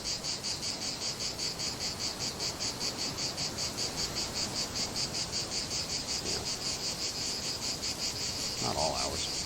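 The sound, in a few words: cicadas chirping at night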